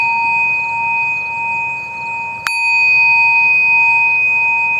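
A small portable bell is struck once like a church bell, a sharp strike followed by a long, clear, sustained ringing tone that fades slowly, alone in a quiet room.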